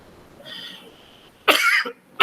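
A person coughs in a short loud burst, then breaks into another cough that is cut off at the end, after a quiet stretch of faint room noise.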